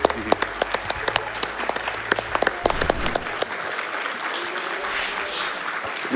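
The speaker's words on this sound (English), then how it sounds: "please continue the applause for MoistRock" Steady, loud applause from a large audience at Summer Games Done Quick 2023 after a speedrun, with sharp individual claps standing out early before settling into a dense, continuous wash.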